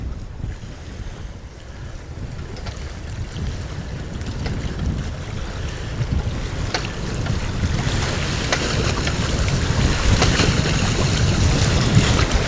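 Open ocean where Rachel Creek runs out at Marathon Key, Florida, heard as a steady rush of surf and wind with gusts buffeting the microphone, slowly building louder, and no voices.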